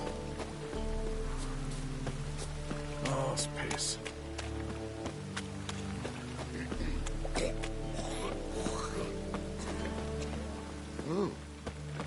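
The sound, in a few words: rain in Novigrad, from video game The Witcher 3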